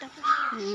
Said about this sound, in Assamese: মাত মানে এতিয়া বৰ্তমান কাউৰীহে মাতি আছে